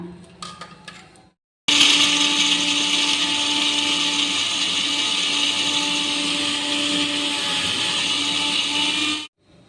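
A mixer grinder whirs loud and steady for about eight seconds, grinding tomato, onion, ginger and garlic into masala for an egg curry. A brief clatter comes before it starts, and the motor stops abruptly.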